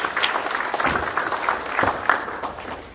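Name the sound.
audience clapping for Nairobi region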